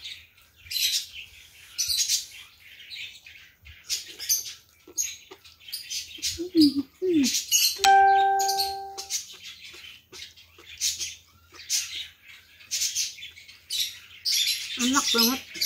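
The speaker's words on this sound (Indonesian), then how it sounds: "Burungnya berisik banget ya, teman-teman." Noisy birds chirp in fast, repeated bursts close by over a short stretch, with a brief tonal squawk partway through and soft handling sounds underneath.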